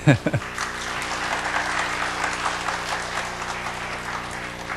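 Audience applause greets a guest lecturer at a church fathers' prayer meeting, a steady mid-level wash of clapping after a few sharp opening sounds, with a faint voice beneath.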